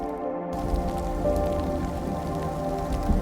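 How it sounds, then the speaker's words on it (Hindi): Steady, dense rain pours down during a storm over a jungle in a cartoon, a constant close hiss of falling drops with no voices over it. "बारिश की आवाज उन्हें किसी राक्षस की सांस जैसी लग रही"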